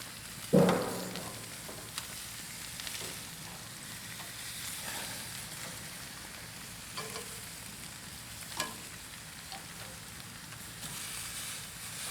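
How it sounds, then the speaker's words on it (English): Bacon and asparagus searing in a hot pan, with a quiet, steady sizzle and crackle that runs throughout, broken by a louder knock near the start and a few faint clinks later. "Oh, look at that sear right there, guys."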